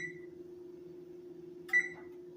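A kitchen timer being set while baking a rum cake gives two short, faint electronic beeps, one at the start and another near the end, over a low steady hum.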